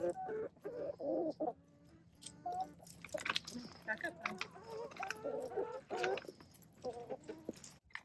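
Several hens cluck and squawk in short, irregular bursts close by, with people talking intermittently over the birds.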